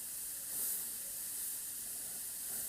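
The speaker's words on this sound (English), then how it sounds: "And that's not spraying bad considering it's golden acrylic paint." A spray gun sprays golden acrylic paint with a steady, close airy hiss that swells slightly and then holds, with no voices.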